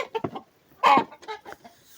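Young ducklings and chickens roam a farmyard, giving short close clucks and peeps in a quick irregular series, with one louder call in the middle.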